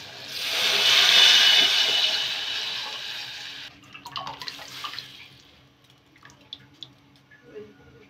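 Amti (Marathi lentil curry) water poured into a hot pan makes a loud hissing sizzle for about three seconds. It then fades into scattered drips, clinks and small splashes. No one talks.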